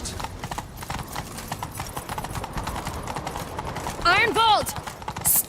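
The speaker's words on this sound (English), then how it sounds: "Grab a horse, we'll chase him down. Great, a horse run." Horse hooves clip-clop in a steady galloping rhythm in The Witcher 3, close and continuous, with a brief whinny near the end.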